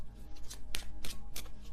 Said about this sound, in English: I could shuffle this deck.